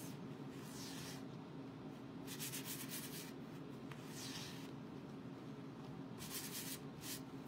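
Repeated short scrubbing strokes rub over a chalk silkscreen transfer to fuzz it, soft dry rasps in uneven bursts close to the microphone with quiet gaps between.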